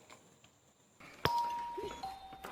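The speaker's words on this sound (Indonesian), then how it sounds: "Tidak lama terdengar bunyi bel." A doorbell in a film rings with a single clear chime that rings on in a quiet room, following a soft faint background.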